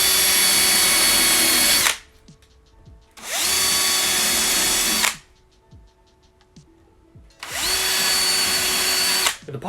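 A power drill bores a pilot hole into a wooden stair tread, three loud sustained bursts of whirring separated by short quiet gaps with faint knocks and handling noise, close up and with no talk.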